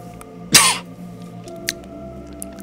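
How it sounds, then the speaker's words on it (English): A single sharp cough with a bit of throat clearing bursts out near the start, followed by quiet room tone and a few faint clicks. "I'm so sorry for coughing these past two episodes"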